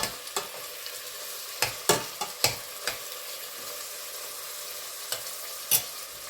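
Food sizzles steadily in a hot pan, with occasional sharp clicks and scrapes of stirring punctuating the continuous frying hiss.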